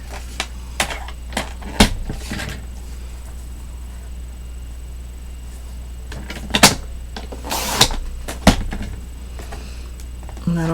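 Trimming a 12x12 paper sheet with a cutter produces scattered sharp clicks and brief scraping swipes against a steady low hum, with quiet gaps between the strokes.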